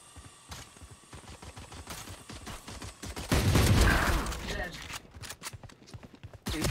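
Gunfire in a shooter video game, with bursts of sharp shots scattered across the clip and a heavier, louder volley in the middle, heard under frequent excited talking from players.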